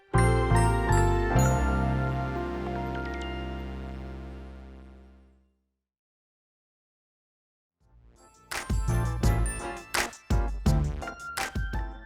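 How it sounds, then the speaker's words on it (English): A chiming ringtone plays a bright, repeating tinkle of tones that swells and then fades away, followed after a short silence by a denser, louder burst of chiming notes. "Is that the phone call she's been waiting for?"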